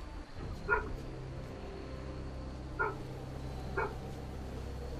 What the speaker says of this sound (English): He does nothing but fucking bark all day.